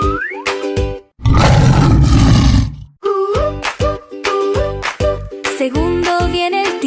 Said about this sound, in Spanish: Primero llega el león, el rey de la selva aquí.